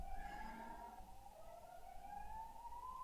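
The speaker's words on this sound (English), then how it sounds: "Oh, the ambulances." Ambulance sirens wail outside in a faint, distant, steadily rising tone over a low background hum.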